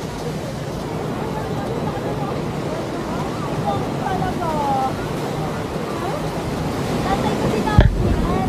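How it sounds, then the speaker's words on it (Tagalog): Ocean surf washing steadily onto a rocky beach in Baler, Aurora, a continuous broadband roar with wind buffeting the microphone and a brief sharp knock near the end; faint voices drift in the background. "Just enjoying the sound of the waves."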